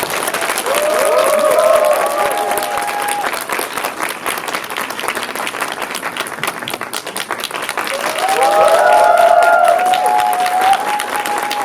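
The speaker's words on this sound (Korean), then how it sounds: "큰 박수 부탁드립니다." Loud, sustained applause from a cinema audience at a film talk event for the movie Idol at Lotte Cinema World Tower, dense clapping throughout with cheering voices swelling at the start and again near the end.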